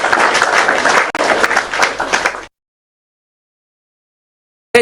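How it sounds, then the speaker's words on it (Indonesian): An audience claps during a livestreamed Islamic religious talk by an ustadz, a brisk burst of clapping lasting about two and a half seconds before cutting off abruptly into silence. "Tepuk tangan dulu."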